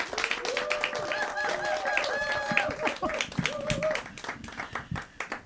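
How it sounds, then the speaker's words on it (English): Audience clapping for a storyteller taking the stage at a storytelling event, individual claps audible over sustained tonal sounds like singing or a voice, fading out toward the end. "Give it a round of applause for her"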